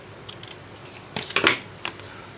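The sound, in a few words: scissors snipping scrap paper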